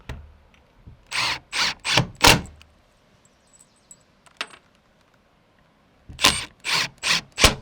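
A screw is driven in during a Harvey Allen Game Getter installation, heard as two clusters of about four short, sharp buzzing bursts, close and fairly loud, separated by a quiet stretch with a few faint clicks.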